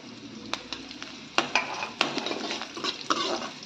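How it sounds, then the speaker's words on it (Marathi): Curry leaves and cashews fry in oil with a soft steady hiss, broken by several sharp spoon clicks and scrapes against the pan. "कढीपत्ता पण छान आपल्याला असा तळून घ्यायचा व्यवस्थित काजू पण टाकून घेते मी"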